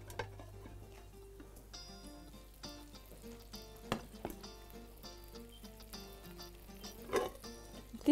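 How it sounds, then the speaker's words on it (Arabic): Almonds frying in a pan, a quiet steady sizzle with occasional soft stirring scrapes and light clinks, close and unhurried, with no one talking. "هنحط اللوز كده لحد ما يتحمر"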